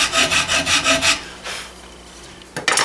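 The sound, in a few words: filing wood with a rasp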